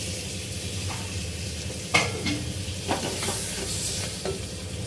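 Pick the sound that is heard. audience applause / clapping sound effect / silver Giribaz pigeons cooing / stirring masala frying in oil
stirring masala frying in oil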